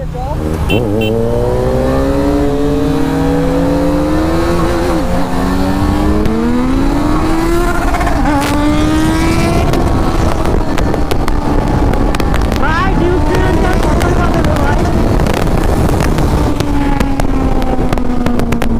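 A KTM Duke 390 and a Kawasaki Z900 race on the road, engines droning loud and close with rising and falling pitch as they pull through the gears, under heavy wind buffeting for the whole stretch.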